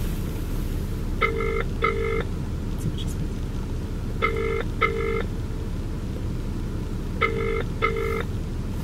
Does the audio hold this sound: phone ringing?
yes